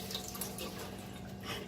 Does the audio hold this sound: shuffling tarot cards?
no